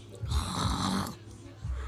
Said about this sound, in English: Snoring like a baby.